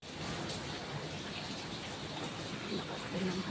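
Steady, dense rain pours down without letup, a continuous hissing wash of water.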